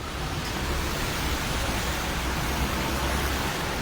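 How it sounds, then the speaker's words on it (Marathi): Water running off a highway pours onto a site near Aisha Villa in Lonavala, making a steady, loud, even rushing hiss that never lets up. "महामार्गावरचं पाणी या ठिकाणी पडलं जातंय"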